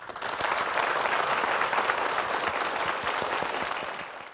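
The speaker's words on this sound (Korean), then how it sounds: "일단 강연 박수로 청해 듣겠습니다" Audience applause welcoming a lecture in a televised talk hall, dense steady clapping from many people lasting throughout, fading slightly at the close with no speech over it.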